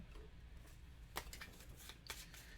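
Cards are shuffled back into a deck during a solo game of the Dead of Winter board game, a few quiet, close riffling bursts over low background hiss.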